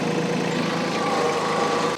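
A compact tractor's engine runs steadily at low revs during yard work, a continuous close droning rumble with light mechanical vibration and no voices.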